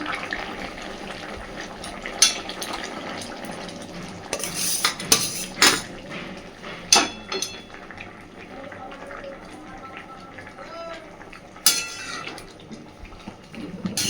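Fried omelettes tipped into a pan of dhaniya egg curry, with close metal clinks of utensil against pan, scraping and soft stirring over a steady background hiss, a few sharper knocks standing out.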